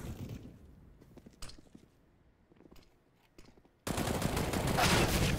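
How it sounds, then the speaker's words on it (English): Gunfire from enemies in the video game CS:GO, sharp bursts of shots with a loud, dense barrage of sustained firing near the end. "They're shooting me."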